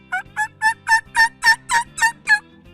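An Osceola turkey gobbles loudly and close, a rapid string of about ten throaty warbling notes in quick succession.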